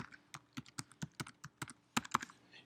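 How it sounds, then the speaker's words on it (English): Keys clatter on a computer keyboard as a username and password are entered, a run of distinct close taps in an uneven rhythm, some louder than others, with no talking. "I will type in my username and I will put in my password"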